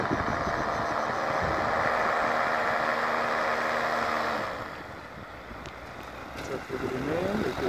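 A flying trike (powered hang-glider style microlight) engine drones steadily during landing, loud and constant with harmonic hum, then drops in level partway through as power is cut back, with a brief faint voice near the end.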